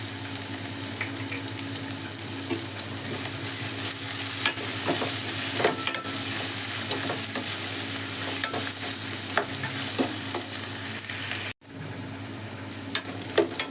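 Grated ginger and curry leaves fry in a pan for tomato bath, a steady close sizzle running throughout with faint stirring scrapes, cutting off briefly near the end before resuming more quietly.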